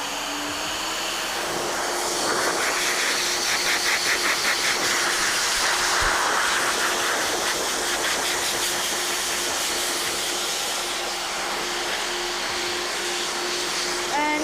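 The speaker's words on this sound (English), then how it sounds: "keeping that dryer moving so the air is dispersing all over the dog" A steady, loud blowing roar of a powerful dog blow dryer drying a Bichon Frise runs continuously with a constant hiss, its tone wavering slightly as it moves.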